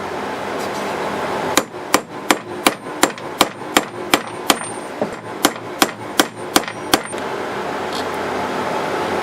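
A hammer drives a Ridgid or DeWalt table saw bearing race onto its shaft on a wood tabletop, with about fifteen sharp, evenly spaced metallic strikes over a low steady background hum.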